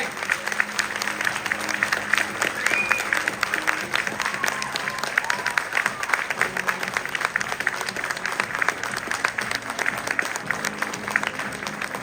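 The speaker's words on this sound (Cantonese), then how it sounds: "請大家俾多啲熱烈嘅掌聲" Applause from a crowd congratulating champions, continuous dense clapping at steady volume filling the room for several seconds.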